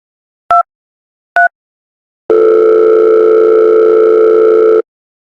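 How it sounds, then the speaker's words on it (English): A telephone line gives two short, clipped beeps, then a loud, steady, continuous dial tone that holds for a couple of seconds before cutting off, with no one talking. "I started to dial 911."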